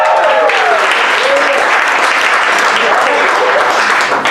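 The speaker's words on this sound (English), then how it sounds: "promise in the way of a cheering and clapping really loudly" Comedy show audience cheering and clapping loudly, a dense, steady wall of applause with whoops and shouts sustained throughout, close and full.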